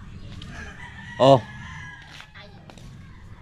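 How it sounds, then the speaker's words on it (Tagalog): A rooster crows once, a short, loud, bright call that stands out over quiet background rumble, with a brief spoken exclamation nearby. "Ano yung manok?"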